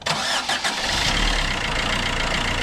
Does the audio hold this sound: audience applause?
no